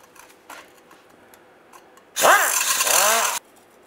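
A rusty exhaust flex pipe connection on a 2007-2013 Chevy Silverado being cut off with a power tool, a loud, harsh burst of grinding and cutting that lasts just over a second, preceded by a few faint clicks and light handling noises.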